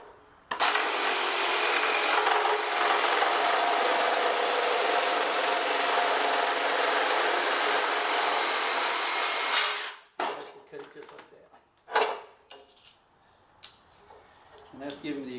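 A jigsaw cuts wood in one long, loud, steady buzzing run of about ten seconds, then stops, leaving brief knocks and handling clatter.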